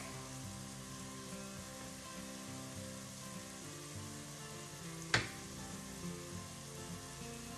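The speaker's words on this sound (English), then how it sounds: "So we're adding 4 full cloves of minced garlic." Minced garlic added to softened onions in a pan for lentil soup gives a quiet, steady sizzle with a single sharp clink of a utensil midway and soft stirring noises after.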